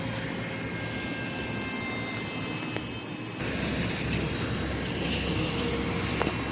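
An RC Su-30 model jet in flight, a steady whirring electric motor drone that holds constant and grows slightly louder partway through, close and continuous with no talking.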